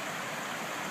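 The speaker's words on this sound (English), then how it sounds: "Alright, here's Nabasco Creek," Nabasco Creek, an old creek, flows steadily nearby, making a continuous close rush of running water with no pauses and no voices.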